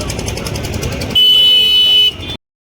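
Busy street traffic rumbles nearby, then a loud, sustained vehicle horn blares for about a second before the sound cuts off abruptly.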